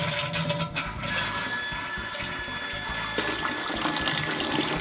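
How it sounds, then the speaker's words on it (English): A household toilet flushing, a loud continuous rush and gurgle of water draining from the tank, steady throughout and close by. "Now, when you flush the toilet"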